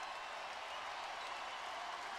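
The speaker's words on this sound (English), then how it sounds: "The crowd getting back into it." A basketball arena crowd at an NBA Eastern Conference Finals game between the Cleveland Cavaliers and Orlando Magic cheers and applauds in a steady, distant roar, faint overall and with no voices standing out.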